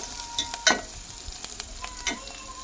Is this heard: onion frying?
yes